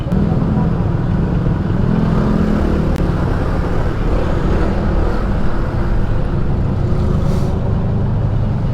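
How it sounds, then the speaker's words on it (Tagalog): Heavy big-bike motorcycle engines rumble loudly and continuously close by at a motorcycle expo, a dense roar of traffic with a voice faintly mixed in. "pag nagsama-sama yung mga big bike ang lalakas ang lalakas ng tunog"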